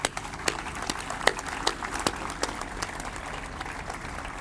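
Scattered, sparse clapping from a modest crowd at the USS Oklahoma memorial ceremony, individual hand claps popping out irregularly with no talking over them.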